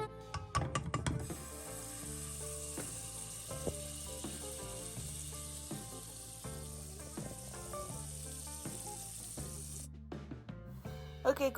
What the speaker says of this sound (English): after you add the butter and the garlic, you just let it fry for about a minute